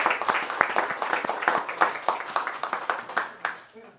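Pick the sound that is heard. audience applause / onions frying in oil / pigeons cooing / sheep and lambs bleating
audience applause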